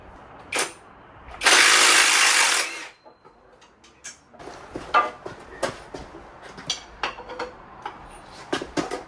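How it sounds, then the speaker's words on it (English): A ratchet works loose a bolt joining the block to the head on a 2015 Kia Soul engine, heard as a burst of harsh rushing noise followed by a series of irregular metallic clicks and taps nearby. "I've got to undo this bolt because it connects the block to the head"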